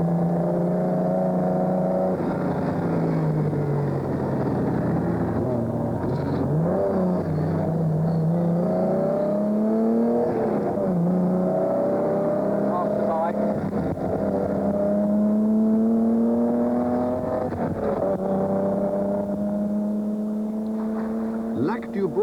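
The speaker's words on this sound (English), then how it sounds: "On the road south to the Alps, John Chatham's determined to put his Austin Healey through its paces." A classic Austin Healey sports car drives a road south toward the Alps during a 1988 classic car rally, its engine revving and shifting through gears at steady volume while someone talks over it.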